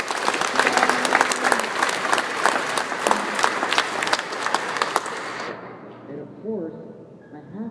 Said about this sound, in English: Round of applause for the contractors.